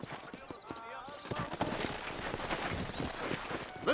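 Horse hooves clip-clop steadily in a busy soundscape from the video game Red Dead Redemption, with voices talking over the hoofbeats.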